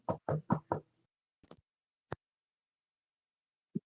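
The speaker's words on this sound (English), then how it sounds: "Knocking on the door first, just..." Four quick, firm knocks on a door in a fast even run, followed by a few softer scattered taps and two isolated single knocks, close and clear against near silence.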